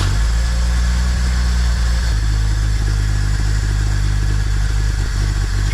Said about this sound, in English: just pray that she fires on the first crank